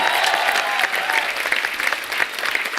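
A studio audience at a Kapil Sharma Show taping breaks into dense, sustained applause, loud and close, with a voice briefly audible within it.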